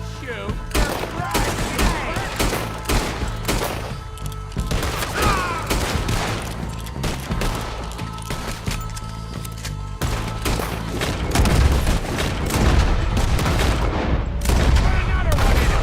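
Gunfire in Red Dead Redemption 2 during a shootout by some huts, with rapid repeated shots and sharp cracks in dense volleys throughout and a heavier boom near the end.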